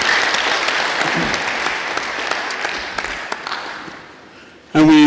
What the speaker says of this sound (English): on that note, we applaud